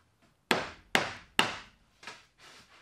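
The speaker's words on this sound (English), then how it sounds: "So just tap it down, it leaves a little indention" Three sharp metallic taps in steady rhythm on a metal tab of a bed frame inside an Argosy Airstream, followed by two softer, duller knocks, close up with quiet gaps between.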